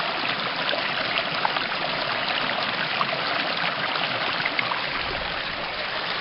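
Spring water flows steadily at the source of the Lot river, a constant close rushing burble with even loudness throughout and no voices.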